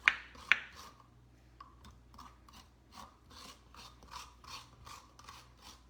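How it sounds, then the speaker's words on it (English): A spoon rakes and scrapes the seeds out of a halved spaghetti squash, a sequence of quiet rhythmic scratching strokes after two sharp knocks at the start. "Just take a spoon and rake around on the inside, like so. And just scrape them"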